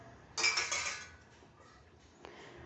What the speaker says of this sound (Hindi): अब हम ये सारे टमाटर इस मिक्सी जार में डाल लेते हैं।